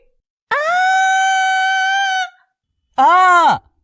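A woman, startled by her own darkened, ugly face in a mirror, lets out two loud, sustained high screams of fright, a long one followed by a shorter, falling one after a brief silence.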